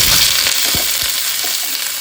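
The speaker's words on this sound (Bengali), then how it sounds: "আমি একটু আলু ভাজা করব" Potatoes fry in a pan with a steady, loud sizzle throughout, broken by a few soft stirring scrapes.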